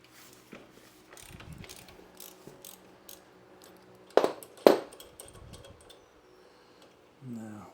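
A spanner works a bolt on a Royal Enfield Bullet 500 during shock absorber fitting: scattered metallic clicks and scrapes with two sharp clanks near the middle, quiet and close, with brief mechanical rattles.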